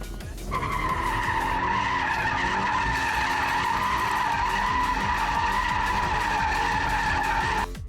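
A car's tires skid and squeal in a long, loud, sustained screech during a clutch-kick drift entry, starting abruptly and holding steady for about seven seconds before cutting off.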